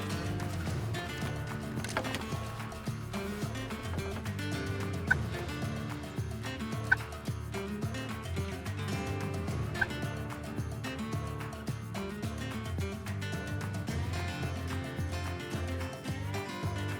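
A wild turkey gobbles during a Carolina spring hunt, its call coming through a steady dense background of outdoor noise that fills the whole stretch, no talk.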